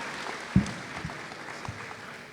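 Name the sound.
audience applause for the police department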